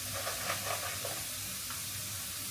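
Cinnamon, black pepper and cloves sizzle in hot oil with a steady, close frying hiss, soft crackles and faint stirring.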